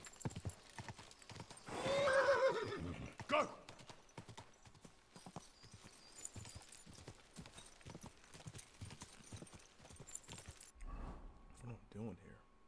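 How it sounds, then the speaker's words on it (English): Horse hooves clip-clop rapidly in a galloping rhythm in the video game Iron and Blood 3, with a whinny, a jangle of tack and someone talking over the repeated hoofbeats. "I gotta take that guy's horse."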